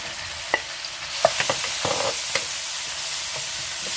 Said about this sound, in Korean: 약고추장 볶습니다